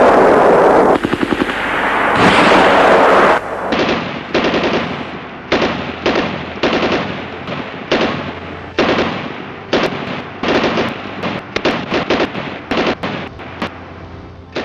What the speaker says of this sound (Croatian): Rafalna paljba trajela je do 11 sati.